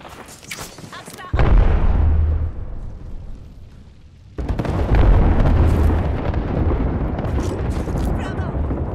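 A thermite grenade goes off in Apex Legends: a sudden heavy blast followed by a roaring burn, then a second loud burst, with gunfire and other game noise mixed in.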